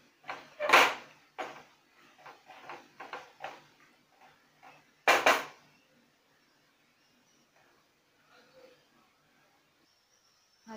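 A spoon stirs egg bhurji in a pan, giving a run of close scraping knocks and clatters over the first five seconds, then near silence apart from a faint late tap.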